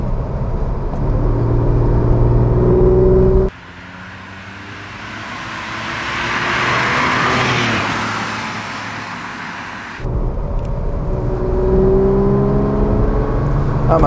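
A 1966 Porsche 911 SWB in original condition runs steadily, its engine note loud and close with a smooth, low rumble. The sound dips briefly midway before returning at full strength.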